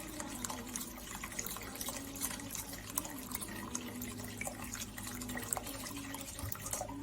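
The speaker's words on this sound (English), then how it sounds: "I'm gonna add some water to this." Water pours steadily into a pot of stewed red beans with cilantro, a continuous splashing and trickling stream heard close up with no voices.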